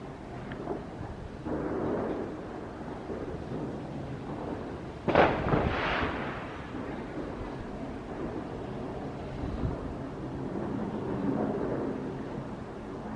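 Fireworks explode on Bonfire Night, one sharp, loud bang standing out midway against a steady outdoor rumble, with fainter distant booms around it.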